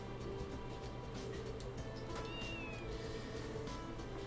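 A cat meows in the video game Trails to Azure, a short rising call over a steady hum of background game music and ambience, moderately faint and heard without talk.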